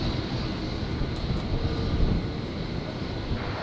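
An airplane taking off from runway 01 right at Brisbane International Airport on a stormy night, heard as a steady, broad engine roar that stays loud and constant throughout.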